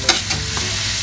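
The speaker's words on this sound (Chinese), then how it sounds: "给它翻炒均匀即可出锅" Snow peas and cured pork being stir-fried in a pan, a steady close sizzle with a few scraping stirs of the spatula, no voices.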